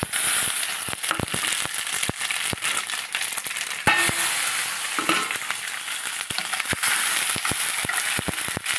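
Ingredients frying in hot oil in a pan for a Telugu nalleru pickle, a steady close sizzle with dense crackling pops and occasional stirring knocks throughout.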